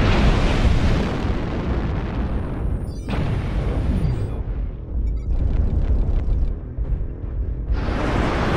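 Missile explosions in MechWarrior Online, heavy continuous roaring blasts and rumbling with whooshing bursts, loud and close, briefly thinning before another roaring explosion swells at the end.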